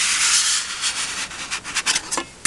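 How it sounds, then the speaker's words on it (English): A scraper rubs across paper to press it flat on a handmade mini album, a close, dry scratchy hiss that starts steady and then breaks into short rhythmic strokes. "I am going to use my scraper"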